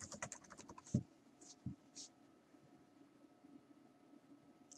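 Typing on a computer keyboard in a quiet room: a quick cluster of clicking keystrokes, then a few louder isolated key presses spaced apart, faint and close.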